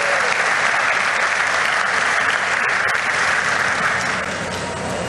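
An audience at a political speech event launching a mining and industrial complex bursts into loud, dense, continuous applause, a sustained wash of clapping from a large crowd that holds steady and eases slightly at the end.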